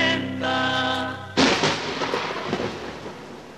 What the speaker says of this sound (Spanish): aproxima una fuerte tormenta.